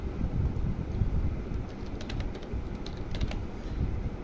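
Typing on a computer keyboard, a short run of light key clicks under a steady background hiss, with no voices.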